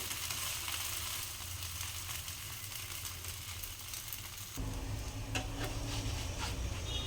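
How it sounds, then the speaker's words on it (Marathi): A fasting dosa roasting on its second side in a pan, giving a steady close sizzle that grows brighter and louder partway through, with faint scraping, and no talk. "आता आपण हा दुसऱ्या बाजूने भाजून घेऊया"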